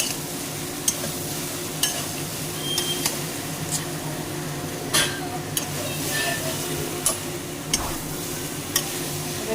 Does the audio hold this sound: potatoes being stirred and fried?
yes